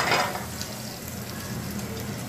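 Sausage frying in a pan as the start of a seafood risotto, giving a steady, moderately loud sizzle with a brief flare at the very start and a constant crackling hiss after it, with no talking.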